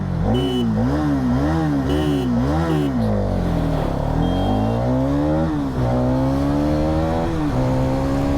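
A Hero Karizma XMR 210 motorcycle accelerating hard from a standstill in first gear, its loud engine rising in pitch through several quick gear changes, then pulling steadily higher, close and continuous with no talk.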